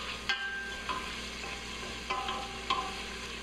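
Onions sautéing in a pan for a beef pot roast, a soft continuous sizzle with a few sharp utensil taps and scrapes against the pan, quiet and close.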